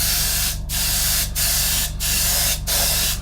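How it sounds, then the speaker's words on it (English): Airbrush spraying paint onto a Meng 1/35 scale Terminator model kit, a steady close hiss broken by four short gaps where the trigger is released, with a low hum underneath and no talking. "then what we're going to do is just spray away"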